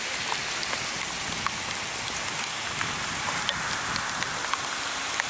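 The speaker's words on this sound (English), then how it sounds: "it is raining hard" Heavy rain pours steadily on a hard surface, a dense continuous hiss with scattered sharper drops, loud and close throughout.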